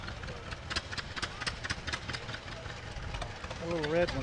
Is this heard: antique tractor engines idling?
yes